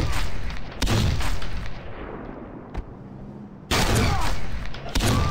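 Heavy shotgun-like blasts in the tactical shooter Sierra 7: loud, booming shots at the start and end with a quieter rumbling stretch between them, and no voices.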